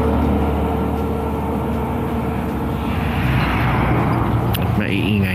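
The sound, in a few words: trucks passing on the road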